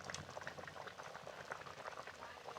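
Fish curry with raw plantain, potatoes and fried fish simmering in a pot, a quiet, continuous bubbling and popping that stays faint and even throughout.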